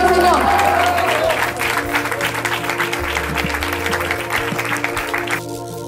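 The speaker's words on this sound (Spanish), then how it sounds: "¡Dele fuerte ese aplauso, Señor!" Church congregation applauding loudly at a women's general meeting, sustained clapping with crowd noise and musical tones underneath, steady throughout.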